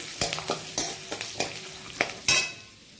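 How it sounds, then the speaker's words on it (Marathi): Curry leaves and peanuts frying in oil over a low flame for murmura chivda, with a spoon stirring through the pan in about half a dozen scraping, sizzling bursts, close and fairly quiet. "कढीपत्ता, हे सगळं छान तळून घेऊया आपण तेलामध्ये।"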